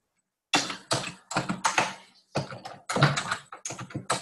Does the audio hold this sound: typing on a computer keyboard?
yes